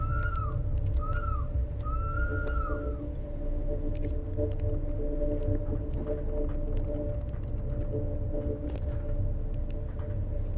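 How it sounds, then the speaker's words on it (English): Steam-style whistle of a train on the Bernina line in Train Sim World 5, three rising-and-falling whistle blasts in the first few seconds, the last one longer, over a steady low rumble and hum of the moving train. "Rather than a horn, this train has a whistle."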